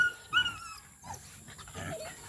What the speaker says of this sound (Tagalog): Ay, naku, yung mga aso ko.